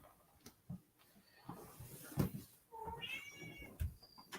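A house cat meows repeatedly, several short rising cries scattered over a few seconds, close by and fairly quiet, with small room noises in between.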